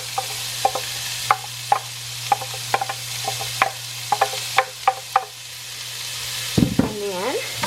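Peppers, onions and garlic sauté in a pan with a soft steady sizzle. A utensil clicks and taps against the pan at irregular intervals, and a brief voice-like sound comes near the end.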